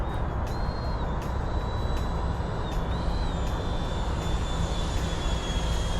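An FMS Rafale 80mm electric ducted fan RC jet whines steadily overhead as the pitch rises and dips with throttle changes, over a constant roaring rush.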